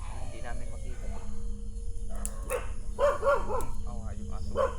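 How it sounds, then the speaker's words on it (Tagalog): A couple of short dog barks in the distance, scattered over steady low background noise and murmuring voices. "Tumatahol yung aso."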